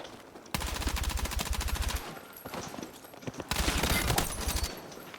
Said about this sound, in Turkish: Keskin sıkıyor.